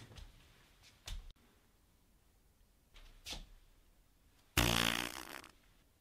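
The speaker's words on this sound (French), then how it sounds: "Il a pété là." A man breaks wind in Korea, a few short muffled bursts, then a louder, longer raspy blast near the end, with no talking.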